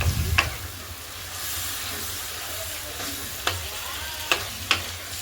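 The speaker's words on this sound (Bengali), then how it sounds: "ভালো করে একটু কষিয়ে নেবেন যতক্ষণ না পর্যন্ত মশলা গা থেকে তেল বেরিয়ে না আসে" Spice paste for a tilapia and capsicum curry fries in oil with a steady, close sizzle and hiss, broken by a few sharp stirring scrapes and clicks near the start and toward the end.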